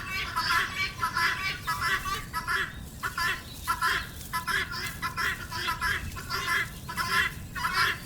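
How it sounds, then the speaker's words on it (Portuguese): Flock of helmeted guineafowl in wild Zambia, heard as a busy, rhythmic chorus of harsh repeated clucking calls with rustling wing flaps, near and fairly loud throughout. "um bando de galinhas de Angola surgiu repentinamente, batendo as asas freneticamente"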